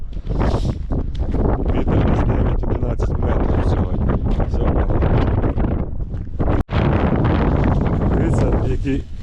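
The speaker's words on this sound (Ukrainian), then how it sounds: "дує просто страшно ще більше, ніж вчора" Strong, gusty wind roars into the microphone on an open-water fishing trip, loud and continuous, with someone talking through it.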